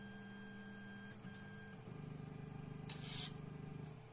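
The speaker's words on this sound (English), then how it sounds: "Now I will just autohome my printer." A Creality 3D printer auto-homes its axes: steady stepper-motor whine and buzzing pulses shift in pitch as each axis moves, with brief clicks, quiet and close.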